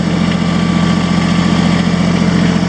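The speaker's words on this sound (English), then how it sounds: "I'll run the loader up and down so you can kind of see the speed." A Kubota 2360 tractor engine runs steadily just above idle, a loud, constant low drone with a mechanical hum, up close while the loader is worked up and down.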